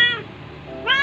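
A thin, hungry orange cat meowing, two short close meows with a quiet pause between them.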